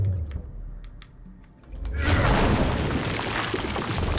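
A bomb goes off in The Witcher 2, a loud deep boom bursting out after quiet ticking clicks and then rolling on as a sustained roar.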